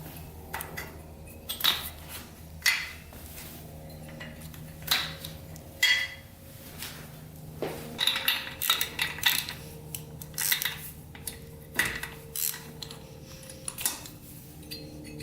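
Metal hand tools working on an abandoned 2-stroke Yamaha motorcycle to pull its spark plugs, giving close, irregular clinks, ticks and scraping clatter with short pauses and no talking.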